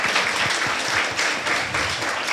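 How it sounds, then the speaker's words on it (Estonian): Audience at a school gathering claps steadily for the school director, a dense, continuous applause from many hands that stays fairly level throughout. "Teeme talle suure aplausi."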